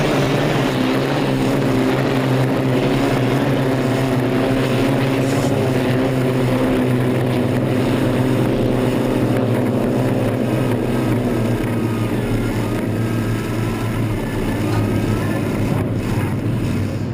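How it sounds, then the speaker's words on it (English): Loud, steady roar of vintage hydroplane racing boat engines droning continuously on open water at the Seattle Gold Cup, a throaty hum with no pauses throughout. "as the boats go down to the lower end of the race course"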